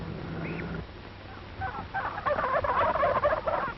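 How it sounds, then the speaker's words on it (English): A turkey gobbler on a 1930s poultry farm breaks into a loud, rapid rattling gobble after a brief faint call, heard close and alone over a muffled, low-fidelity background. "He hears a turkey gobbler who flew over the fence of the turkey yard."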